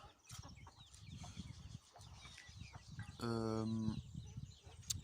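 Hens on a farm cluck softly and intermittently at a distance over low background noise, while a louder, sustained harmonic call rises briefly in the middle.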